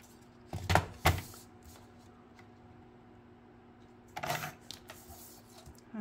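Paper is cut for a 12x12 scrapbook layout, giving a few crisp, quiet snips: two close together, then a single one after a pause, in an otherwise still room.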